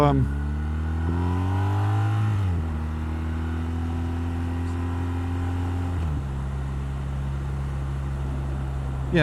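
A 2019 BMW R1250R motorcycle engine hums steadily at low speed with gear changes and rpm shifts, loud and close, with wind noise around it.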